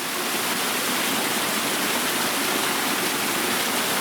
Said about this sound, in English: This is the one with the waterfall.